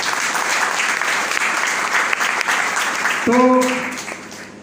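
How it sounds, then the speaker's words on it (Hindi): Loud crowd applause for Lalita madam fills a business gathering in a steady dense roar, with a brief spoken word and a tonal sound near the end as it begins to fade. "ललिता मैडम के लिए कोई जोरदार ताली"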